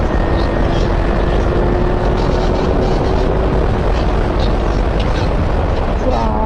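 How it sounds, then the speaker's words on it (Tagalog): A Honda Hornet 1000 naked motorcycle ridden at high speed, near its 204 km/h top speed: a loud, unbroken roar of engine drone and wind rush that holds steady throughout. "Grabe naman lakas ng motor na to."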